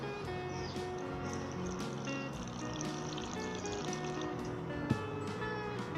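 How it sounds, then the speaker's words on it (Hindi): Water trickles in small amounts into kachori dough with ghee in a bowl, a soft continuous pouring over steady background noise, with one brief sharp clink near the end. "और अब इसमें थोड़ा थोड़ा पानी मिला के हम इसे गूंदेंगे।"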